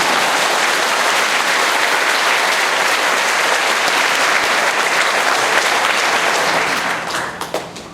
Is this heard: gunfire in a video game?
no